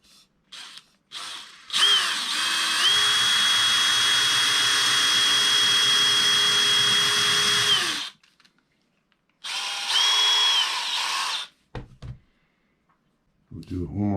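A power drill fitted with a brass tube bores a hole for a fish finder transducer mount. It whines steadily for about six seconds, stops, then runs again in a shorter burst, with brief pauses and clatter between.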